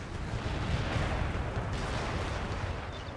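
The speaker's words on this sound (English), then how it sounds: "I guess the cannon shots." Cannon fire in Empire Total War, a continuous rumbling barrage of distant booming shots blending into a heavy, low battlefield roar without pause.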